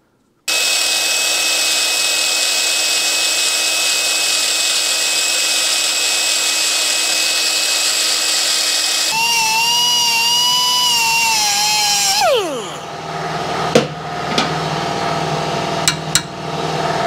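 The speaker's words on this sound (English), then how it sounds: "I'm going to drill two holes in here so that I know everything will line up" A power drill whines loudly and steadily as it bores holes in metal on a Yamaha 250MX frame, its pitch wavering and then dropping as it spins down, followed by a few sharp clacks.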